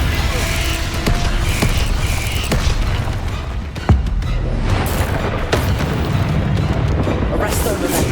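Confringo blasting spell explosions burst repeatedly in Hogwarts Legacy combat, with several booming hits scattered across a dense, noisy battle and voices talking throughout.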